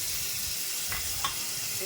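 Chopped onion and garlic frying in a hot kadai, a steady soft sizzle with a couple of faint stirring scrapes, no talk.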